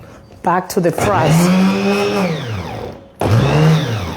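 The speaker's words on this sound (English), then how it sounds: "I'm just going to blend this, excuse the noise." A kitchen blender motor whirs up, holds a loud steady spin, then winds down before starting again for a second burst, close by, while someone talks over it.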